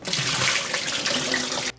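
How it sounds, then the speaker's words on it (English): Water poured out of a bowl of soaked raw potatoes into a kitchen sink, a close, loud, steady gushing splash that stops abruptly near the end. "I'm gonna dump this water out."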